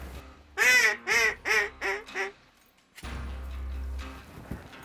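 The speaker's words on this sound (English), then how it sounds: "So the ducks just show up." Mallard ducks quack on a duck hunt in a run of five loud, close, descending calls, followed by a pause and then a low rumble of wind and distant noise outdoors.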